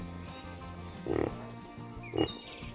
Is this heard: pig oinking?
yes